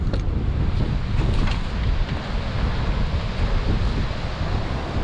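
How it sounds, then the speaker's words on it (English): Wind blows over a remote Arctic river, a loud, constant roar that buffets the microphone and partly sounds like rushing water. "Do you feel the wind?"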